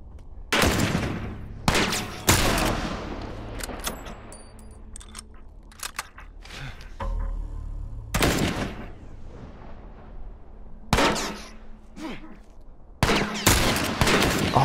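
Gunfire in The Last of Us Remastered: loud sharp shots and short bursts come at irregular intervals, separated by quieter stretches, while someone talks now and then between them.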